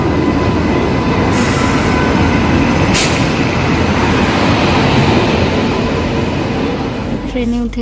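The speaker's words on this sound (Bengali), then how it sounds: "ট্রেন আসছে" Train pulling into a station platform in Odisha, a loud steady rumble of rolling railway cars and wheels with brief squeals, continuous and close throughout.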